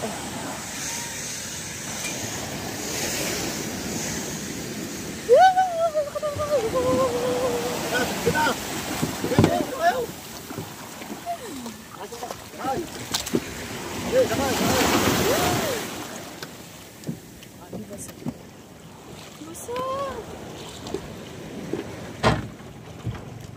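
Boat engines of many fishing boats rumble out at sea over the wash of waves and gusting wind, with a voice calling out briefly in the middle.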